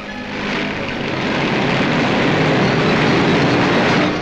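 A loud, steady roar of a Vertol 76 tilt-wing aircraft in flight fills the scene, broad and rumbling with a slight propeller throb, holding constant throughout.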